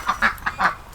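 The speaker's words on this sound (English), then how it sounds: "come and see the new duck area" Ducks in a backyard duck enclosure let out four quick, nasal quacks in an uneven burst, loud and close, with no talking.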